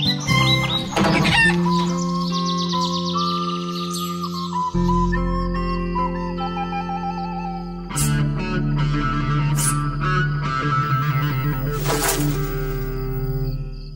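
Chickens cluck and chirp over a musical backdrop in a children's bedtime story, with melodic tones and bursts of bird calls near and loud throughout.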